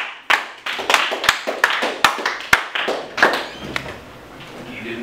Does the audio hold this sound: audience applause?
yes